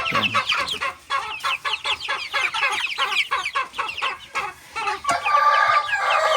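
Dong Tao chickens and chicks on a farm in Tarlac City, a dense, busy chorus of rapid clucks and peeps close by, with a brighter burst of chirping toward the end.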